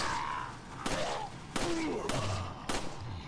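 Gunfire in the Resident Evil 4 video game, three sharp shots spaced about a second apart, fairly loud over the game's ambient sound and creature noises.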